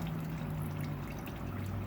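Motor oil from a Ford drains out of the engine and splashes into a catch pan, a steady, low liquid trickle and patter that holds quietly and evenly throughout with no voices.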